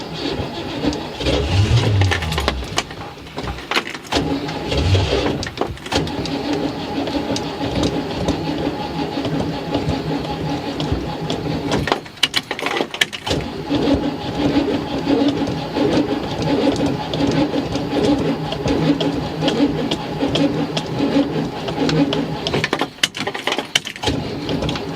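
A 1976 Ford Econoline E150 engine cranks steadily without catching, a continuous rhythmic starter churn held at close range for most of the span, with a few brief breaks and no voices.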